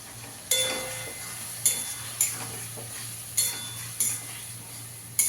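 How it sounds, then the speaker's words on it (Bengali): Spice paste of ground coriander, Kashmiri chilli powder and hot chilli paste sizzles steadily in a pan while a spoon scrapes and clinks against the metal in regular strokes, close by with no speech. "সব ভালো করে মশলাটা একসঙ্গে ভালো করে কষিয়ে নেব।"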